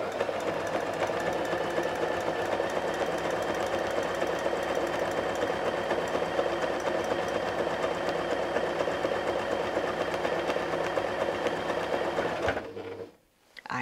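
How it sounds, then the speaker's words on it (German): A sewing machine stitching a zigzag seam on a quilt appliqué, a close, steady, rapid mechanical whir running continuously for about twelve seconds before stopping abruptly, with no speech. "Jetzt kommen wir an unseren ersten Ausläufer und den nähen wir in Zickzack lang."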